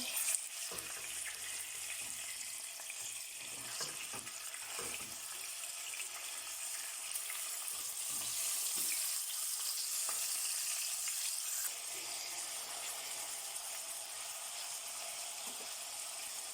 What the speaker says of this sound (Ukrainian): Піджаримо з однієї сторони до рум'яного кольору.